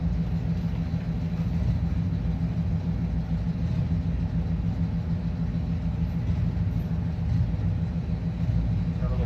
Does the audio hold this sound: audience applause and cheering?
no